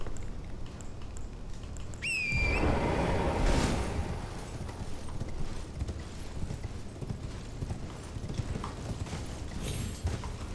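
A horse's hooves clip-clop in a fantasy video game, rapid rhythmic beats mixed with game effects and a brief swooshing sound, moderately loud with no talking.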